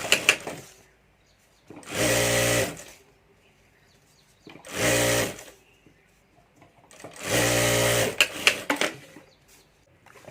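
Sewing machine stitching a strap onto a handmade hand bag, running in three separate bursts of a couple of seconds each, with quiet handling noises in the pauses between them.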